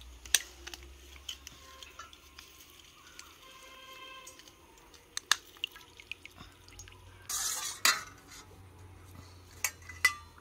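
A spoon stirs a homemade sherbet drink with salt and lemon juice, giving faint clinks and soft liquid swirls with small drips, then a brief louder rattle and a few sharp taps against the glass near the end.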